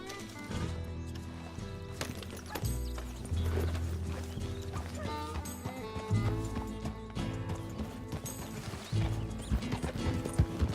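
Rhythmic horse hoofbeats clip-clop at a steady pace in Red Dead Redemption 2, mixed with game sound effects, creaks and occasional clatter, over a low rumbling background.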